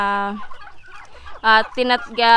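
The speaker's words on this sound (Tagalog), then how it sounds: "So eto silang mga manok na ganito" Loud, close chicken calls in harmonic bursts, one at the start and a rapid cluster of three near the end, with quieter scratchy fowl noises between.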